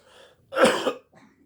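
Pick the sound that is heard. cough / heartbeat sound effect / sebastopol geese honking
cough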